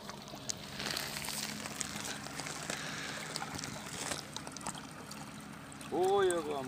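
Fast-flowing water of the Sava river rushes steadily at moderate volume around fishermen, with faint knocks, and a voice briefly rises near the end.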